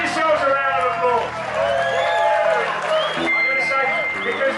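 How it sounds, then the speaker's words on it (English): Restaurant staff clapping and cheering at an anniversary celebration, a busy crowd with whoops and voices talking and shouting over scattered applause throughout. "Give yourselves a round of applause."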